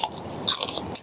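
Crisp crunching bites into deep-fried battered chicken tendon, a few sharp crackles over about a second, close and fairly quiet.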